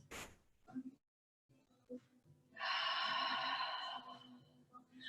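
During a yoga session, a sharp inhale opens the passage. After a brief pause comes a long, airy exhale of about two seconds, fairly soft and close.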